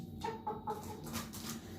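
A young rooster, trapped, gives a few short, clucking calls in quick succession, fairly close, over a steady background hum.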